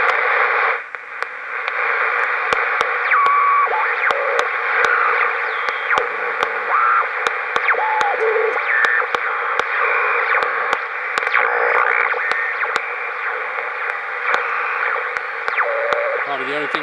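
Heathkit HR-10B ham band receiver tuned across the daytime 75 meter band, giving steady loud static and hiss with faint whistles and tuning tones drifting through and repeated clicks, a voice talking over it.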